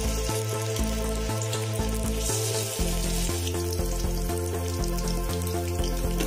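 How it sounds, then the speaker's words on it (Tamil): Soya chunks (meal maker) deep frying in hot oil give a continuous crackling sizzle, largely masked by loud rhythmic background music with a pulsing bass line. "இப்போ இதை நம்ம பொரிச்சு எடுத்துடலாம்"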